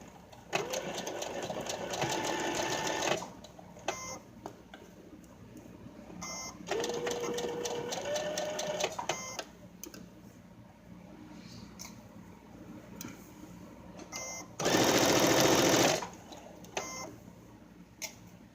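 A sewing machine stitches a robe sleeve in three separate bursts of rapid mechanical whirring, the last louder and harsher, with quieter pauses of handling in between.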